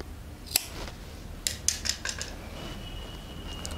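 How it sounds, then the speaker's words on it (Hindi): Scissors snipping fabric while cutting a lehenga, a few quiet, crisp snips spread across a faint background hum, one early and a cluster in the middle. "जैसे ही वन साइड क्लोज है इसको कट कर देते हैं।"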